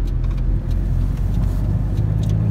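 Car pulling away in Moscow, a loud, steady low engine rumble from inside the vehicle, continuous throughout with no talk.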